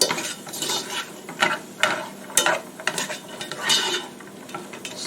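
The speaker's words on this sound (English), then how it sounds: "stir this all up in here" Chili ingredients with onions are stirred up in a pot without a wooden spoon, producing a continuous scraping and clattering of the utensil against the pot with irregular louder knocks, close and fairly loud.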